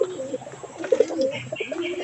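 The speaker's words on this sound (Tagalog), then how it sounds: "May kalapati, may manok, may sisiw na maliliit pa na manok." Pigeons kept at a home alongside chickens and chicks coo softly and repeatedly at close range, with low throaty burbles overlapping one another and no voices.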